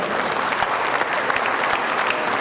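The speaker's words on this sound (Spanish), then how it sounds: "yo les pido que lo recibamos con un caluroso aplauso" Loud, sustained applause from a museum audience welcoming a guest, a dense, even wash of many hands clapping close by with no pause.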